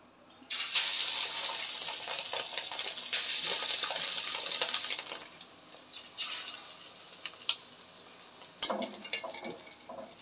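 Fish roe dropped by spoon into hot oil in a wok, giving a loud, close, bright sizzle that starts abruptly, holds steady, then breaks into quieter crackles before flaring again near the end.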